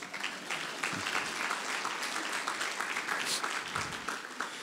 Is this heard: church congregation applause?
yes